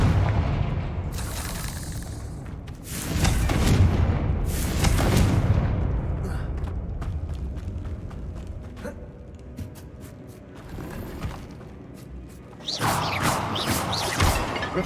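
Confringo blasting curse in Hogwarts Legacy, with deep booming explosions that swell and rumble, several heavy bursts spaced across the stretch, plus scattered clicks and a final loud blast near the end.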